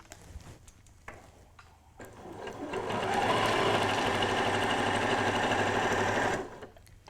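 Sewing machine running a straight stitch around a table runner, a steady loud whirring burst of several seconds that starts up and winds down, with quiet handling before and after.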